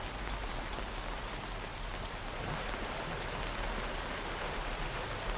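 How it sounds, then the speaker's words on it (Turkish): Steady video game rainfall pours down continuously, a dense hiss of drops with no voices, even and unbroken throughout. "Yağmurlu bir günde."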